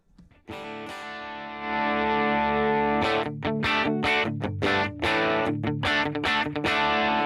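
Electric guitar through an effects patch, a delay-laden ringing chord that swells, then rhythmic chiming strummed notes with echo and chorus, loud and close with no talking.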